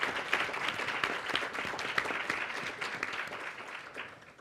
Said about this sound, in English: please give a round of applause for the panel.